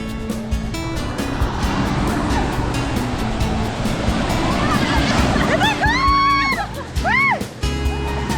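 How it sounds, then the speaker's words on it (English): Ocean surf washing up on a beach, a steady broadband roar of breaking waves and rushing water held throughout, with voices and shouts of swimmers mixed in near the end. "This is the ocean."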